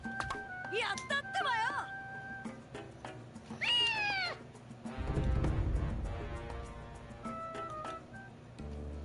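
Cartoonish cats meowing in Naruto Ultimate Ninja Storm, several bright, rising and falling meows over game music and effects, with a short rumbling burst in the middle.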